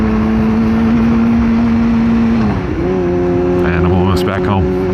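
A repaired Yamaha R6 sports motorcycle cruises loud and close with a steady high engine drone that dips and shifts pitch midway as the rider changes gear, under heavy wind rush.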